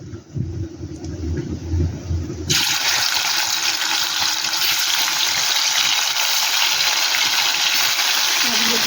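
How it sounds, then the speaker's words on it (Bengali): Fish rubbed with salt and turmeric hits hot oil in a kadai for Bengali vola macher jhal, bursting into a loud, steady, continuous sizzle after a brief quieter moment, frying alone without talk. "এবার মাছগুলো ভেজে নেবো ভালো করে।"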